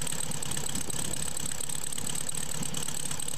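A well-kept 1971 Volkswagen Karmann Ghia convertible idles, its air-cooled engine holding a steady, even hum at moderate volume throughout with no voices.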